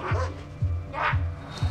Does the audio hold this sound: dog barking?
yes